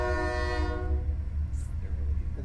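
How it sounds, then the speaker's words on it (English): A passing train sounds its horn in a sustained, steady blast that cuts off partway through, over a low rolling rumble, heard from some distance and fairly faint. "gotta wait for the train to go by."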